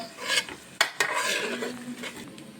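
Crushed garlic, green chili and ginger frying in coconut oil in a pan for chicken curry, heard as a low sizzle under brisk scraping and a couple of sharp metallic knocks from a stirring spoon.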